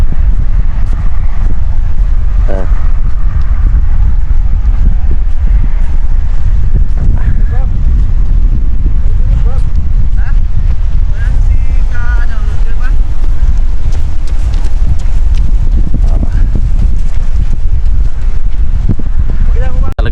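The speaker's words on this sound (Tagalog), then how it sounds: "Talaga pong napakalakas po ng hangin." Strong hot wind buffets the microphone on a seaside shore in Saudi Arabia, a loud, constant roaring rumble throughout with gusty surges, while a voice talks over it.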